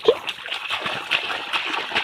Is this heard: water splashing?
yes